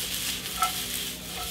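Mushrooms, shallots and steak drippings sizzle steadily in a hot pan for Steak Diane, a constant close hiss with a faint utensil clink partway through and no talking.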